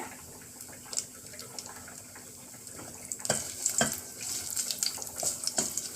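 Mustard seeds and fenugreek splutter and pop in hot oil in a pan, a steady close sizzle scattered with sharp crackles that grow busier toward the end, with no talk over it.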